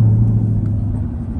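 A Chevrolet Camaro ZL1 1LE idles with its active exhaust held permanently open, giving a loud, deep, steady rumble close by for about a second and a half.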